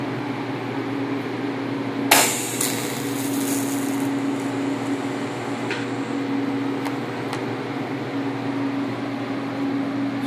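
A TIG welding tack on a motorcycle battery box: a sharp onset followed by about two seconds of thin, hissing arc, set against a steady mechanical hum that runs throughout.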